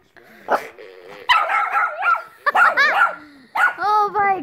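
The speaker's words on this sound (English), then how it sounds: "one of his little toys that he's afraid of that barks" A small toy dog barks in short electronic bursts, several yapping runs in a row, fairly close and loud, with a person's voice mixed in.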